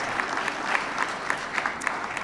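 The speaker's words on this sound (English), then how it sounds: "Let's give them another round of applause." Press conference audience gives panelists another round of applause, a brief, moderately quiet burst of steady clapping throughout with individual claps standing out.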